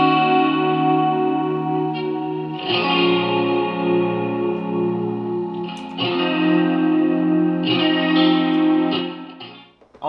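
A sustained, distorted guitar sample in FL Studio with an automated low-pass filter, heavily effected with echo and chorus, ringing chords that swell and retrigger around three, six and eight seconds before fading at the end, with no voices.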